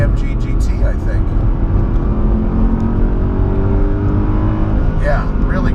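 A Mercedes-Benz CLK63 AMG Black Series V8 pulls hard from inside the cabin, a loud sustained engine drone with rising and shifting tones, underneath occasional talking.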